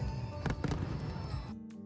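Fireworks during a large display at Tokyo Racecourse, heard from very close as dense, continuous booming and crackling that stays loud throughout, with a couple of sharper bursts before it thins out near the end.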